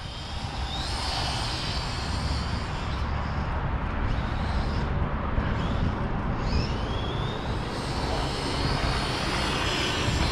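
A Redcat Volcano 1/10 scale RC monster truck with an upgraded brushless motor runs continuously with a high, whining electric motor rising and falling in pitch as it speeds around, over steady broadband noise and no speech.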